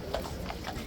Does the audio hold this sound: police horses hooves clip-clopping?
yes